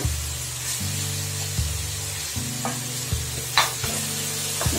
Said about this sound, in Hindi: तो मैं अच्छे से मिक्स कर लूंगी।